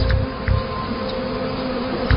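Bees swarming around a huge wax nest holding tens of thousands of insects make a steady, dense droning buzz, close and constant, with faint bumps of low rumble and no speech.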